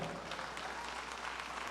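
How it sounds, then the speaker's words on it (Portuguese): A church congregation applauds during a sermon, a brief, steady burst of many hands clapping together at moderate volume, continuous and unbroken. "Vamos aplaudir a palavra?"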